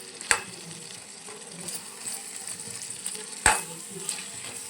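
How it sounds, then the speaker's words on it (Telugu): Garlic paste goes into a simmering country chicken curry, giving a soft sizzle and bubbling with a couple of sharp utensil clacks against the pot. "దీంట్లోకి ఎల్లిగడ్డ ముద్దనైతే యాడ్ చేద్దాం"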